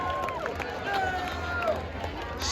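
Crowd at a Halloween variety show applauds and cheers, a dense wash of clapping and scattered whoops filling the room at steady volume with a few raised voices on top.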